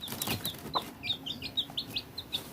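A mother hen clucks in short, repeated bursts, a run of quick, close calls over a faint farmyard background, with no talking.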